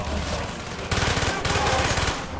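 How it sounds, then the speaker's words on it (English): Rapid bursts of PPSh submachine gun fire from Call of Duty: Black Ops, loud and continuous, with a denser burst roughly midway and steady automatic clatter throughout. "I like the way the PPSH sounded before in World of War"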